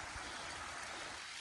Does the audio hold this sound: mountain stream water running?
yes